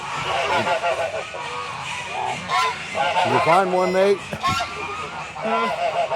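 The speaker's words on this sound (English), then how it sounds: "And you can see there's a whole row of African geese." A row of African geese at a poultry show honk loudly and repeatedly, harsh nasal calls overlapping in close succession, with a person speaking briefly among them.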